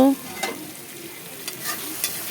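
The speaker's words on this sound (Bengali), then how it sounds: "এখন মশলাটাকে ভালো করে কষিয়ে নেব।" Spice paste with dried chili powder sizzles and fries in a pan while a spoon stirs it now and then with soft scraping strokes. The steady frying hiss stays close and moderately loud.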